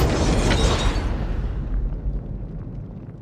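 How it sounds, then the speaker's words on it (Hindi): A loud bomb blast in a Hindi action crime thriller erupts in a heavy boom, then rumbles and fades over a few seconds. "ऐसा धमाका कि उनके कान के पर्दे फट गए।"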